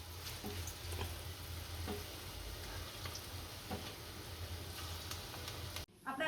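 Dal vadas fry in hot oil, making a soft, even sizzle with faint crackles and light utensil taps, cut off abruptly at the end.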